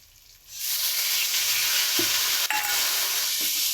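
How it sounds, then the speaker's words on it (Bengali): Mustard spice paste hits a hot wok and bursts into a loud sustained sizzle after a quiet start, with a few stirring scrapes and clicks, close and without talk. "এবার আমি ভালো করে কষে নেব"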